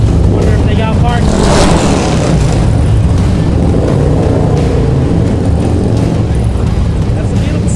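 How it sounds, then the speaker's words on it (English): A Harley-Davidson motorcycle engine on a group rally ride heading into a parking garage, a loud, continuous throaty rumble that fills the whole stretch amid other traffic noise. "That's the beautiful sound of a Harley Davidson."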